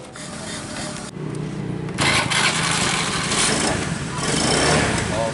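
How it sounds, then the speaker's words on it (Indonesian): A Honda Beat carbureted scooter is tested with its electric starter, whirring and cranking in a few short bursts before the small engine catches into a buzzy idle, close up. "Kita sekarang coba tes starternya."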